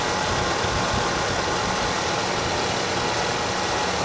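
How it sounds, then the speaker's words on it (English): Chevrolet Suburban V8 running at idle with the hood open, a steady, close, broadband engine hum and mechanical clatter holding constant throughout with no talking. "I want you to hear how great this motor sounds."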